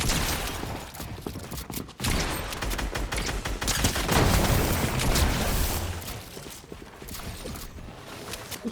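Enemy gunfire in a video game, dense bursts of shots and booms rattling almost continuously, loud and close, with a brief drop before the barrage swells again.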